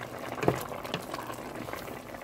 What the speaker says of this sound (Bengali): আমি একটু নেড়ে নিব